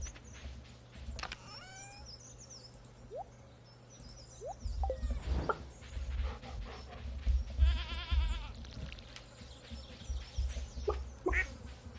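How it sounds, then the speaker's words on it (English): Sheep in the Stardew Valley farming game bleat several times in short, wavering calls at moderate volume, mixed with other game sound effects and light clicks, with no talking. "get away, sheep"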